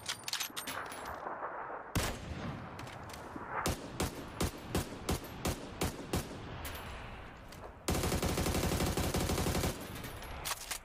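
Rapid bursts of gunfire in PUBG, with repeated single shots and a sustained automatic stream in the middle, loud and close throughout.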